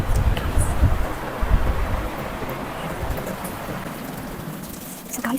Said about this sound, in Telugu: బయట ఫుల్ వర్షం పడుతుంది